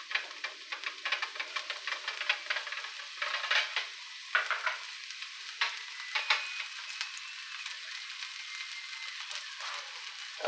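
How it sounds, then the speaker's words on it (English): Mushrooms sizzle in a hot skillet with a steady crackling fry, broken by louder bursts of spatter and stirring, heard close and continuous with no voices. "So the first thing I'm going to do is add my mushrooms. Go ahead and put the mushrooms in here."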